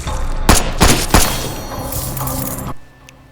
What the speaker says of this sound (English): whenever you open fire on these monsters with your firearms, the bullets and recoils feels like it has this